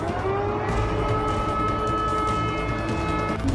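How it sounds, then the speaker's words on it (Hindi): An air raid warning siren sounding across the Russian city of Volgograd, a steady rising tone held continuously over broad background city noise throughout. "रूस के शहर वोल्गोराड में भी चेतावनी के सायरन की गूंज।"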